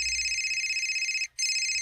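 A telephone rings with a steady electronic tone that is loud and close. It breaks off briefly near the end, then resumes, with no voices.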